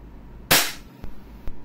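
A WE Glock 17 Gen 3 airsoft pistol fires a single sharp, loud crack at close range, followed by a couple of faint mechanical clicks in an otherwise quiet room.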